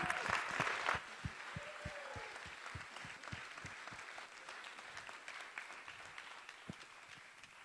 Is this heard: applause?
yes